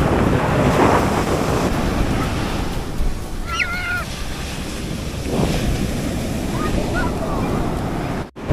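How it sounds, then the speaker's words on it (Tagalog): Strong surf rolls continuously onto a beach at a Zambales resort, a loud broadband wash with wind buffeting the microphone and faint distant calls above it. "Lakas talaga ng alon dito."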